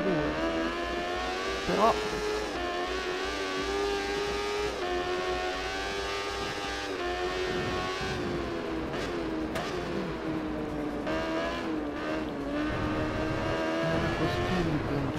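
Moto2 racing bikes in the Valentino Rossi The Game video game, on the Losail circuit, holding a steady high engine drone with harmonic whine throughout, while someone talks over it.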